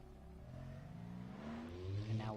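A car engine drives steadily in a video game, with a low, continuous revving drone that swells and rises in pitch toward the end.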